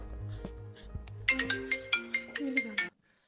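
A telephone rings on an outgoing call: a short run of bright, repeated electronic tones with a steady rhythm, fairly close, that starts after a moment of low background and then cuts off abruptly into quiet.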